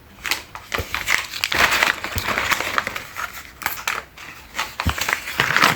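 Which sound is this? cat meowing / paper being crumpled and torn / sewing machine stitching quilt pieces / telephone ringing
paper being crumpled and torn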